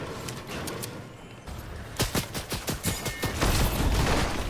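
Rapid bursts of gunfire in a video game firefight near a supply drop, a quiet stretch giving way to a dense volley of sharp repeated shots from about two seconds on, loud and close with a continuous backdrop behind.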